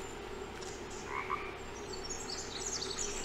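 Frogs croak steadily through the night ambience of the Blair Witch video game, a dense continuous chorus under higher chirping insects and calls, with no talk over it.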